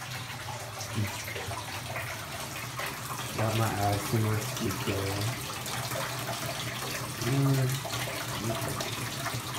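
Cold tap water gushes steadily into an ice bath, a continuous broad splashing rush that runs throughout, with someone talking over it.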